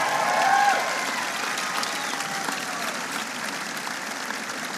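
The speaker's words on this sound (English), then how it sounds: "Give him a big round of applause." Crowd at a President Obama rally in Iowa clapping and cheering, a dense sustained round of applause that is loud at first and slowly eases, with faint whoops mixed in.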